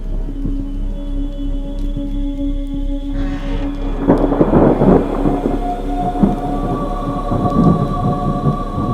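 Heavy rumbling thunder rolls in after a few quiet seconds, with a low steady drone and scattered crackling bursts, no talking.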